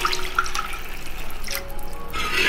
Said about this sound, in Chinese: 再淋入1大碗清水